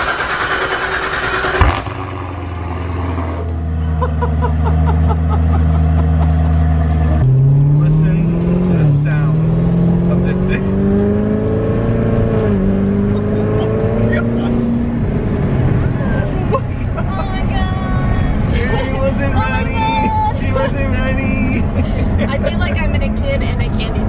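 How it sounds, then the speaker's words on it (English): A 2016 Chevrolet Corvette Z06 fitted with an Armytrix exhaust fires up from cold with a sharp starter crank and loud roar, then settles into a high, droning idle that dips and rises as revs fall, with speech over it. "let's get a cold start of a 2016 Z06 Corvette with a Armytrix exhaust system"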